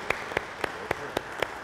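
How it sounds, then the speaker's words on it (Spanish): Six evenly spaced, crisp claps in a steady rhythm, close by, applauding fathers on Father's Day during a Catholic Mass, with a quiet background between the hits. "un aplauso a los papás en su día"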